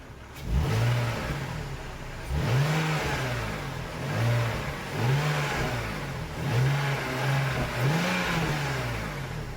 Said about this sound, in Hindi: लेकिन 3000 की इंजन की जो ग्राउल है